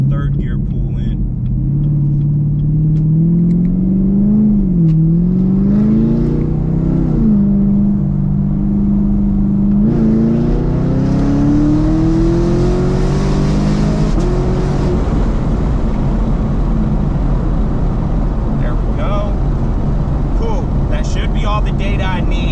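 A supercharged Chevrolet Camaro SS at wide open throttle through a third gear pull, its loud engine roar climbing steadily in pitch in repeated rising sweeps, then settling into a sustained heavy rumble.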